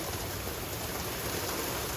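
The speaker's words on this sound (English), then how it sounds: "Currently being hailed on." Hail falls steadily in a valley near the Dead Sea in the Holy Land, giving a dense continuous patter of pellets hitting the ground, fairly faint and even throughout with no talk.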